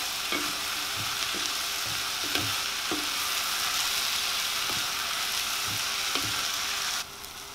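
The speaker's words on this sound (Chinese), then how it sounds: "稍微翻炒之后加入已经去皮的番茄块" Peeled tomato chunks stir-fried in a hot pan, with a steady loud sizzle throughout and a spatula scraping and clacking against the pan at irregular intervals, with no talking.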